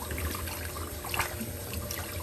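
Tap water runs steadily into a sink where freshly harvested, steaming corn is being cooled, a continuous close splashing rush with a slight swell near the middle.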